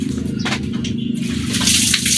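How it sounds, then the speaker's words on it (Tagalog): Water boils in a pot for sinigang na talakitok, a steady bubbling and hissing roll that grows louder toward the end, heard close with no talk. "Bali kumukulo na po yung tubig."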